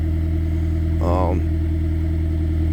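A car engine idles steadily while warming up on a cold day, a constant low drone throughout with a brief voice-like burst in the middle.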